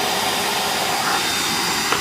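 A vacuum cleaner runs steadily during a Toyota Prius tune-up, its loud, even whooshing roar filling the whole clip without pause.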